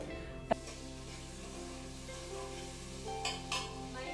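Tomato, onion and leafy greens frying in a pan for a home-cooked dish, a steady, soft sizzle with occasional stirring scrapes and one sharp utensil tap, no voices.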